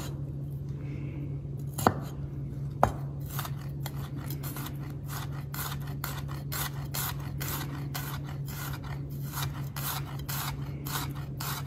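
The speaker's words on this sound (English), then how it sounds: "Just little slices without going all the way through." A paring knife slices garlic on a cutting board in quick, close, evenly spaced taps that run steadily throughout, with a couple of sharper knocks near the start and no speech.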